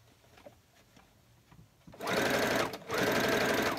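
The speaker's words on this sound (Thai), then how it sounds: "เราเนาไว้แล้วเราก็เย็บได้เลย" A sewing machine stitches a jacket lining, starting after a quiet moment with faint handling noises, then running in two loud, steady bursts with a brief pause between, close up.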